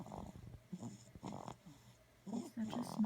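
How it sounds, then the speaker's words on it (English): A four-week-old puppy snores softly in short, irregular snorting breaths, close and quiet, while someone speaks gently over him. "He's such a snorer."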